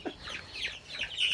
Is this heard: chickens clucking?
yes